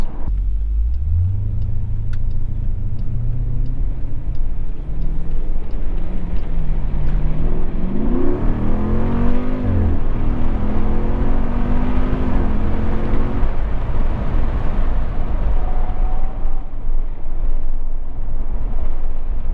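A Jeep Grand Cherokee SRT engine revving, recently serviced with fresh transfer case and differential fluid: a steady loud rumble that climbs in a long rising rev and falls back, heard alone.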